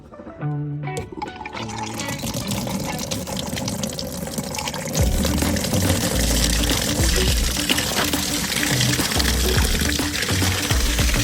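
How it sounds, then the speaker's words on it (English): Dirty water from carpet, upholstery and wool rug cleaning gushes out in a steady, loud pour, growing heavier and deeper about halfway through and splashing continuously until the end. "let's check out the dirty water dump"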